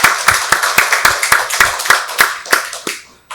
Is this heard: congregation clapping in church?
yes